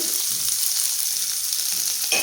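Shallots, green chillies and curry leaves sauté in a hot pan, giving a steady, close sizzle throughout with a brief clink of the utensil near the end.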